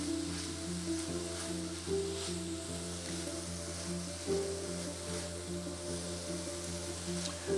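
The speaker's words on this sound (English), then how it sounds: "we're going to add some diced zucchini. We're going to let that cook a little bit more" Diced zucchini sizzles in a pan as it cooks for a southwestern chili, a steady, low frying hiss with faint stirring and no talk.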